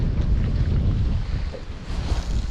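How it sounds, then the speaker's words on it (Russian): Strong wind roars steadily over a large boat on the Pechora river, a loud, continuous gusting rush with heavy low buffeting and no voices. "потому что ветер сильный"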